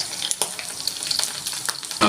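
Chicken deep frying in hot oil for street-style chicken fried rice, a dense, bright, continuous sizzle up close, with a few sharper bursts and faint stirring clatter.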